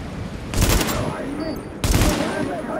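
Two bursts of rapid gunfire in the video game The Division, each lasting about half a second and spaced over a second apart, loud against a steady background of game ambience.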